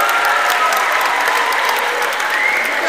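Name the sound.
audience applause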